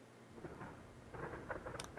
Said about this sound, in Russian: Слышите, гром, это гром,